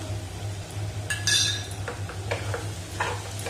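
Banana and jaggery mixture with ground cardamom stirred in a pan, with a few soft scraping and clinking strokes of a utensil over a steady low hum, close by and with no voices.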